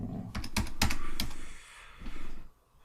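Computer keyboard typed on in a dark room: a quick burst of close, crisp key clicks in an uneven rhythm, then a pause and a couple more soft taps, no voice over them.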